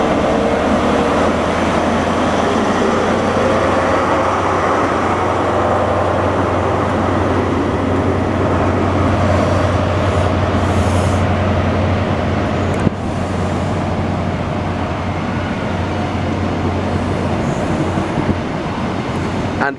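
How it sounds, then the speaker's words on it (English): Virgin Trains East Coast HST diesel train pulling out of Stevenage station on the East Coast Main Line, a steady loud low rumble with droning engine hum lasting throughout, a brief clank near the end. "Departing now, we've got a HST Virgin Trains East Coast service off to London King's Cross"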